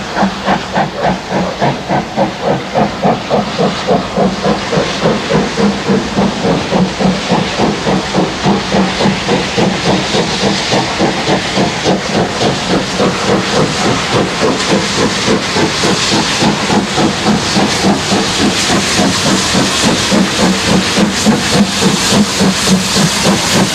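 GWR steam locomotive 3440 City of Truro hauls its last mainline train, a loud, steady rhythmic chuffing with hissing steam running continuously and close throughout.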